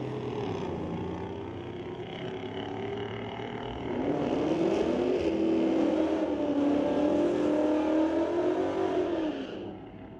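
A drag race between a 5-liter Ford F-150 and a Dodge Charger at Mission Raceway Park street-legal night: engine roar swells and revs hard from a distance, rising in pitch and loudness mid-run before fading.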